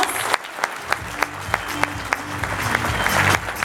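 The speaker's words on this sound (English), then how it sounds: "give these folks a big round of applause." Applause from a room of peers at a sales training event, a dense crowd clapping throughout with sharp individual claps standing out, swelling slightly toward the end.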